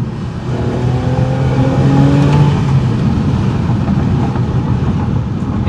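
A loud car engine revs hard and holds a roaring, rising drone for several seconds, close and steady with no talking.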